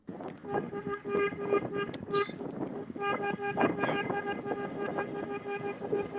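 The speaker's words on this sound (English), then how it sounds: "the honking is so loud, I can barely hear you what you're saying" Car horns honk loudly and repeatedly during a campaign car caravan outdoors, several horns overlapping in bursts of toots, with wind buffeting the microphone and voices talking underneath.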